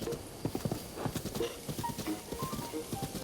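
Horse hooves clip-clopping in the video game The Legend of Zelda: Breath of the Wild, a fairly quiet run of rhythmic, irregular hoof thuds with faint tonal game sounds, no talk.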